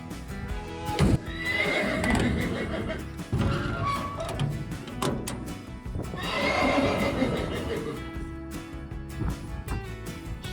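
A horse in a trailer neighs and whinnies loudly in two long bursts, with hooves clip-clopping and thumping against the trailer floor and walls in between.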